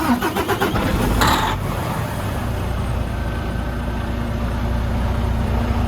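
A truck engine cranks briefly and catches, then settles into a steady low rumbling idle, loud and close, with no voices.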